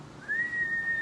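A single rising then level high whistle tone, clear and loud, lasting under a second against quiet background hiss.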